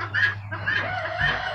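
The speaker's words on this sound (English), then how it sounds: "So these are the other guineas." Guinea fowl call in a rapid series of three harsh, rhythmic cackling notes, close by, over a low steady hum.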